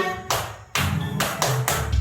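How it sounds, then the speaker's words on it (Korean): Congregation at a Sunday church worship service clapping together in a few sharp, evenly spaced group claps, close and loud with no talking. "집중의 박수"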